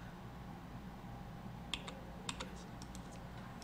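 Several light key clicks on a computer keyboard while working in 3ds Max, a few sharp taps in a short cluster over a steady low background hum.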